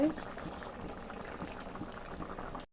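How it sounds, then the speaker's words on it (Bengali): An egg curry comes to a boil in a covered pot, giving a dense, steady bubbling hiss throughout, fairly soft and continuous. "এই যে তরকারিতে বলক এসে গেছে"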